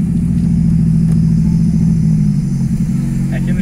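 A Chevrolet Kadett engine drones loudly and steadily at low pitch while downshifting, its tone dropping slightly toward the end, heard from inside the car.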